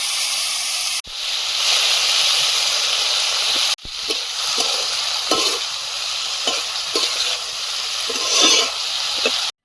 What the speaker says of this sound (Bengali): উচ্চ ভাজাটা বসিয়ে দেব